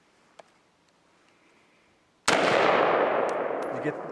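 A single hunting gunshot fired at a hunting camp bursts out loud and sharp after a quiet stretch, its report and echo rolling on and slowly decaying through the rest of the moment.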